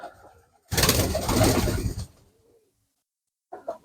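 Yellow pigeons at a nest in a village loft, one low throaty coo lasting over a second, close and clear, followed by a short quieter call after a pause.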